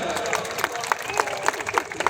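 Audience applause at a public event, a dense wash of clapping with a few sharper claps standing out in a steady rhythm, fairly close and continuous throughout.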